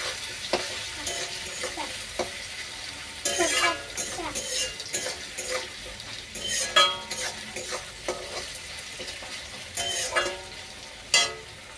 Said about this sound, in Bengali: এবার আমার আলুটাও সেদ্ধ হয়ে গেছে, পেঁয়াজটাও ভালো ভাজা হয়ে গেছে